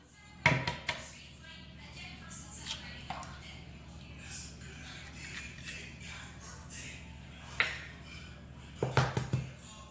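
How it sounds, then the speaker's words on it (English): Two large eggs cracked one after another into a medium-sized bowl in a home kitchen, giving a few sharp taps and clicks against the rim amid soft handling noise. "And we're going to get our 2 large eggs. And we're going to crack them."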